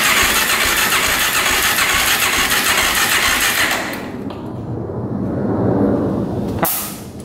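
A cheap used quad ATV engine cranking with the throttle open, a loud rapid churning that drops off near the end, close up with no talk.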